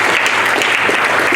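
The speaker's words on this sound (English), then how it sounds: "I want to start by asking us all to give a big round of applause to the" Loud, dense applause from a government launch audience for the performance tracker team, continuous clapping filling the short stretch.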